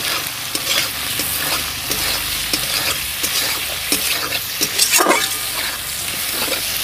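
Turmeric fries in hot oil with pieces of rui fish, giving a dense, close sizzle with stirring scrapes and sharper spatters, strongest toward the end, with no talking.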